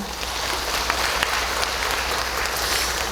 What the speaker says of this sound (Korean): 격려의 힘찬 박수 부탁드립니다.